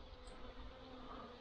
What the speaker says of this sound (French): Normal, c'est une abeille.